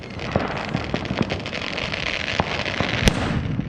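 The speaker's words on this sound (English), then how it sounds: "it looked like this canister shell was lit without being put into its launcher tube first" A firework canister shell at an outdoor pyrotechnics show goes off outside its launcher tube, producing a dense, loud crackling barrage with scattered sharp pops and one strong bang near the end.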